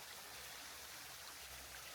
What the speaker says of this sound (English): Is that the little Loki waterfall